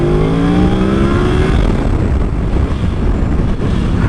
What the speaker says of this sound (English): Just a quick pull, just so you guys can see the amount of power that this bike has